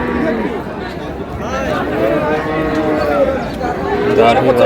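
Cattle low and moo at a busy rural livestock market in Dinajpur, Bangladesh, where dairy cows and calves are for sale. The loud, drawn-out calls carry over constant crowd chatter, and people talk throughout.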